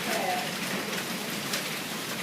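Heavy rain mixed with hail pours down steadily and close by as a dense, continuous hiss with scattered sharper impacts, loud and unbroken throughout.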